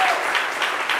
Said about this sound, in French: merci d'applaudir très fort nos mannequins